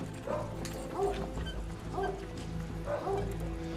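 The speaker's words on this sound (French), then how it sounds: "Les chiens aboient" Dogs barking at night in snow on a mountain plateau during a military operation, several distant barks repeating roughly once a second over steady background noise.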